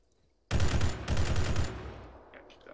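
Gunfire in ArmA 3 with a Halo mod: a loud burst of sustained rapid shots begins abruptly, briefly dips, then resumes before tapering into a fading echoing tail.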